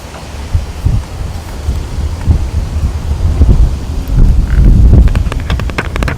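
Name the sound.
wind blowing into microphone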